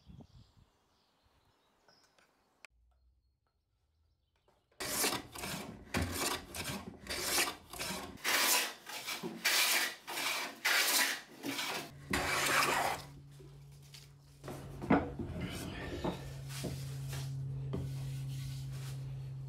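A hand plane shaves tear-out damage from a wooden table leg for shop furniture, giving a run of loud, rhythmic rasping strokes up close, then a steady hum underneath the final scrapes.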